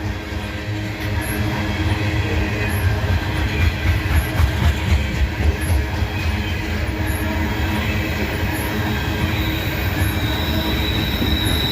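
Freight train with a DPU locomotive passing close by, a loud continuous rumble of rolling wagons with rhythmic wheel clatter and recurring high metallic squeals.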